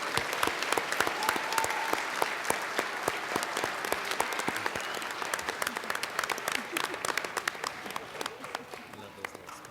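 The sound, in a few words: audience applause for kindergarten award winners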